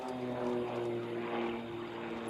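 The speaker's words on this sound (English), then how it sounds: "the airplane now in the pivot, waiting on the half roll" A propeller aerobatic airplane, a Cap 232 flying a competition routine at the US Nationals, drones steadily at a distance with a sustained engine hum and no one talking.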